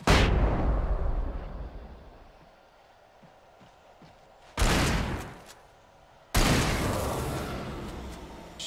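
Heavy gunshots in the video game Alan Wake: a loud opening blast fading out, then two sharp, booming shots several seconds apart, each with a long decaying tail.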